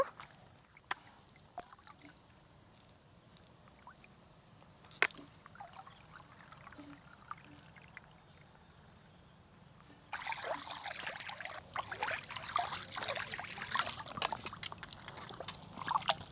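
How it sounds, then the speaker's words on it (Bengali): Jute leaves are washed by hand in water outdoors, starting with quiet occasional drips and splashes, then turning to a louder, continuous sloshing and trickling in the last six seconds, with no talking. "এখন শাক কটা ধুয়ে নেব"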